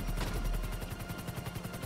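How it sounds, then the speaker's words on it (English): A rapid, continuous stream of heavy gunfire from a Vulcan rotary cannon in GTA V Online, firing loudly and steadily throughout with no breaks. "that's a Vulcan, that's a fucking Vulcan cannon."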